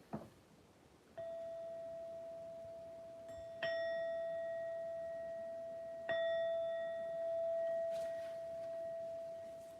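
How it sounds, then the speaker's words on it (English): A bell is struck three times, each strike ringing out with a clear sustained tone that slowly decays, close and quiet with no talking. "we'll strike the bell again"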